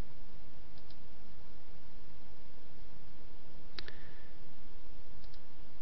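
A few faint, crisp mouse clicks sound sparsely, with one sharper double click near the middle, over a low hiss while working in CyberLink PowerDirector 7 software.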